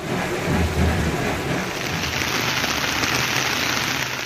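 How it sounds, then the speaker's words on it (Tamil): Heavy rain pours steadily in Rajapalayam, Virudhunagar district, with a low rumble of thunder near the start, a dense and continuous roar with no talk. "இடி மின்னலுடன் கூடிய கனமழை பொழிந்தது"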